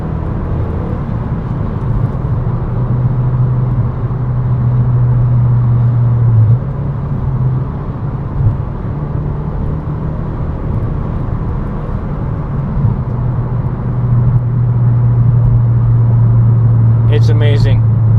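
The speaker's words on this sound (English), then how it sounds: "you can still hear the engine sound from the outside and the exhaust" A 9th-generation Honda Civic Si with a Yonaka exhaust hums along from the outside, a steady, fairly quiet low engine drone with a rise in note toward the end, while a person talks over it.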